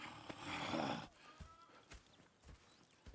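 Horses at a camp in Red Dead Redemption 2: a close, loud burst of hoof clatter and whinnying, then scattered single hoof steps and soft shuffles that grow quieter.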